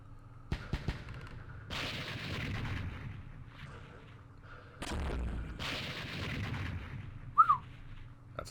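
Rocket strike in a Vietnam War strategy game set in the Mekong: several sharp blasts and rumbling bursts, a short whistling streak near the end, over a low steady background.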